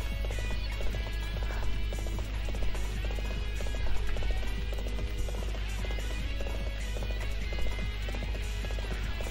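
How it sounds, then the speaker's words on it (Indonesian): Hooves of a summoned horse gallop in the Warriors Orochi 3 video game, a steady clip-clop rhythm running throughout over busy game music and effects, fairly loud and continuous. "Asli nih kuda jalannya lembut juga nih"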